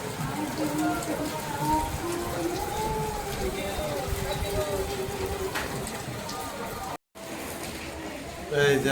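Steady rain falls outside a shop with a window opened onto it, a dense, continuous hiss with a brief break near the end, while people talk over it throughout.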